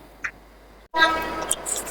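Netaji Express (12311 Up) pulling into a station platform: after a brief quiet gap, a loud burst of horn tones and rumbling train noise rises and holds, with sharp high squeals over the steady roar.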